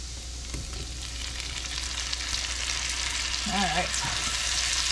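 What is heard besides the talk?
artichokes sizzling in pan with butter and spices, stirred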